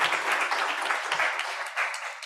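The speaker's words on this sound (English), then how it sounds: "first maybe a bit of applause would be nice" A symposium audience applauds a panel, with dense, continuous clapping of moderate loudness filling the room for a couple of seconds.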